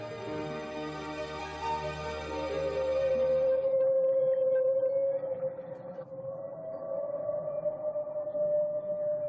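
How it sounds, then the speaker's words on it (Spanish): Humpback whale song underwater: long, eerie tonal moans and wails that slide and hold in pitch, rich and layered at first, then thinning to a single sustained call, loud and alone. "Estos extraños sonidos también los emiten las ballenas jorobadas"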